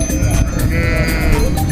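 A sheep on an Austrian mountain pasture gives one loud, close bleat with a wavering tone, set against rustling outdoor background noise.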